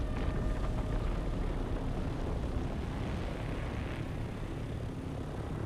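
Ornithopter flying at low altitude in the game Dune Awakening, a continuous loud droning engine roar with rumbling wash that holds steady without pause.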